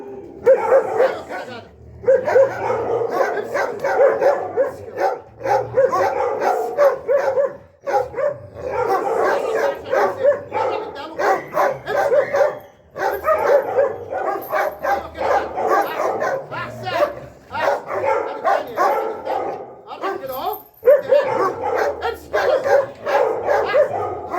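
A dog being trained with a wooden stick barks and yips repeatedly in close, choppy bursts, while someone talks and urges it on over the noise.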